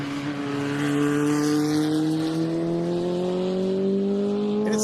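Near and loud, a race car at a speed festival, with induction and camshaft changes and a remapped fuel injection system, holds a steady high engine note that rises gradually as it accelerates, with no talk.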